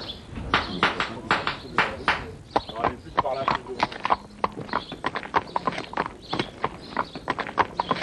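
Horse hooves clip-clop steadily on a hard surface at a farrier's, close by, with a person talking in French over the rhythmic footfalls.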